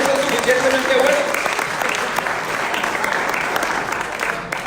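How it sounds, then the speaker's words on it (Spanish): Church congregation claps in a steady, continuous burst that gradually tapers, with voices murmuring underneath the applause. "You shouldn't have clapped for that."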